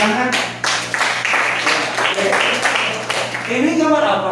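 A classroom group claps hands in a quick burst of irregular claps, fairly close, with voices and chatter mixed through it and a low steady hum underneath.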